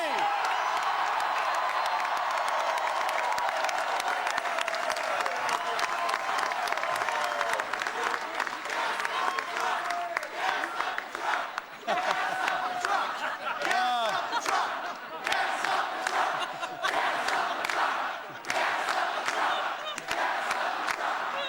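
A large crowd at a 2010 Massachusetts special Senate election victory rally cheers and applauds continuously, a loud, dense roar of clapping and shouting that never lets up, with a voice faintly under it.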